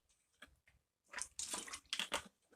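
Someone takes a quick drink of water, faint close sipping and swallowing sounds with a small clunk of the container, in short bursts separated by brief near-silence.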